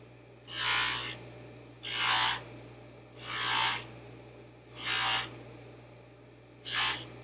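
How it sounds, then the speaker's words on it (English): A metal piece is pressed repeatedly against a spinning polishing wheel, producing five bright, raspy grinding bursts at an even rhythm over a constant low motor hum, close and clear with no talk. "you need to press harder against the wheel because it's not really polishing, it's just sitting on top"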